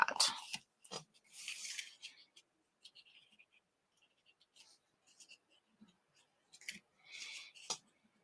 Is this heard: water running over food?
no